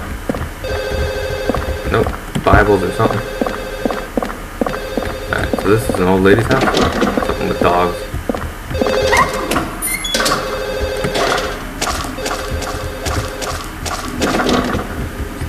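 A telephone in Silent Hill rings repeatedly with a bright electronic trill while a person talks over it and footsteps and clatter sound nearby.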